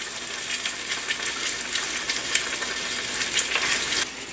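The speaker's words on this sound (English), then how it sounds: "When you fry something, you want to have hot oil." Barramundi fish frying in hot oil, a steady close crackling sizzle with scattered pops that holds evenly throughout, with no voices over it.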